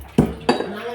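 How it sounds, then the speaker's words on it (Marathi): Chillies, garlic and beans pounded in a mortar and pestle: two sharp, close strikes with a hard clinking edge, about a third of a second apart. "सगळी कुटून घेते आता मी."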